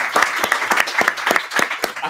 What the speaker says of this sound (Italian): Un applauso all'amico Aziz.